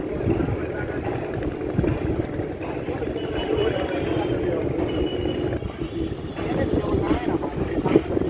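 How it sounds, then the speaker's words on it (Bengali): A cargo launch boat running on a river gives off a steady, rumbling engine drone mixed with wind noise. It stays continuous and fairly loud from start to finish. "দেখতে পাচ্ছেন লঞ্চটা মালবাহী লঞ্চ"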